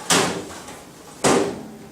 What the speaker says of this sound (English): To bring the door back down, simply lift it up, push the lock back,